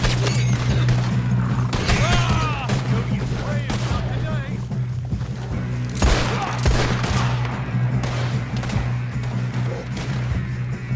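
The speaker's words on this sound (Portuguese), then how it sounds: "O Brutus levou um tiro." Rapid gunfire in the video game Red Dead Online during a farm shootout with thieves, dense overlapping shots and bursts over a steady hum, with game voices mixed in.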